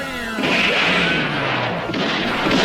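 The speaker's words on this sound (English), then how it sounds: "Chaos erupts as the posse and the guards start exchanging gunfire." Gunfire sound effect in a Western shootout between a posse and guards: a heavy boom bursts in suddenly and is followed by loud, rolling, echoing blasts and crashes.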